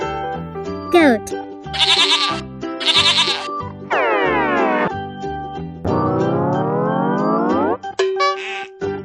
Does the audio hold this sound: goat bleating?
yes